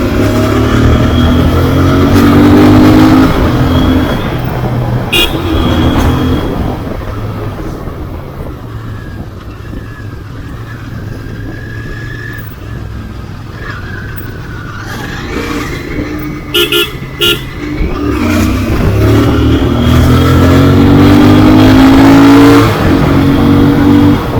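A Royal Enfield GT650 motorcycle accelerates hard, its engine rising and falling in loud revving sweeps as it pulls through gears, with a horn toot and passing traffic noise in the mix.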